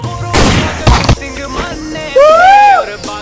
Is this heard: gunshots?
yes